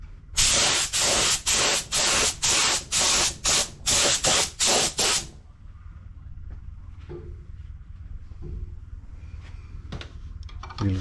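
Spray paint laid down as a light misty first coat, a rapid series of about a dozen short, loud hissing bursts in quick rhythm, followed by quiet room noise with faint knocks.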